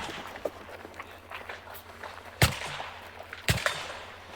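Two sharp, fairly distant gunshots crack about a second apart during a stage of a shooting match where the shooter fires from each side of a barricade, set against faint shuffling and background noise.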